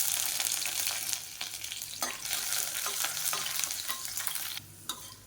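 Curry leaves and chopped garlic frying together in hot oil, a loud steady sizzle with sharp spitting crackles and stirring scrapes, close up, easing off near the end.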